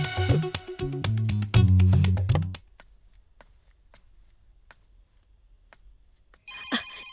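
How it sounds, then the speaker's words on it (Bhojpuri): A phone ringtone chimes briefly and clearly near the end, close and fairly loud, after a stretch of background music and near silence. "देखी देखी फोन आइए गई।"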